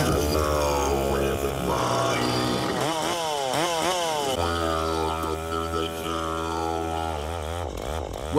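A chainsaw runs loud and close throughout, its engine revving up and down in repeated swells and dips, with no talk over it.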